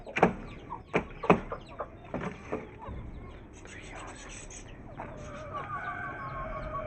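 A brown hen clucks in short sharp bursts near a coop's laying spot, a few loud clucks early then softer, scattered calls over a low background, with a brief scraping sound toward the end.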